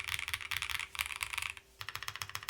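Fast typing on a Photon wireless keyboard with PBT keycaps, close and crisp plasticky clacks in quick bursts, with a brief pause between runs and no voices.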